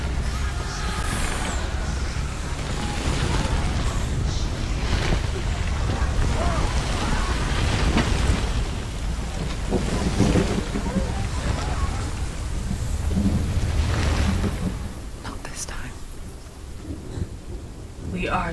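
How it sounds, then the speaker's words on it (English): Thunderstorm in the video game Hellblade: Senua's Sacrifice, with heavy rain and rolling thunder as a loud, continuous dense roar and deep rumbles throughout, with occasional sharper cracks. "The storm."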